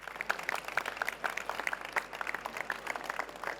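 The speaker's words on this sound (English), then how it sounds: "Ladies and gentlemen, please give Octavius Black a big round of applause." Audience applause at a talk event, a moderate patter of clapping from a room full of people, steady and fairly soft throughout.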